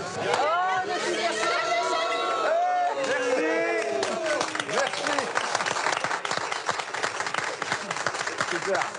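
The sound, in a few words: welcoming committee applauding arrivals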